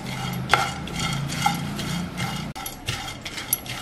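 Brown poha roasting in a pan while being stirred, giving a steady close scraping and rustling with occasional light clicks of the spoon against the pan, no talk.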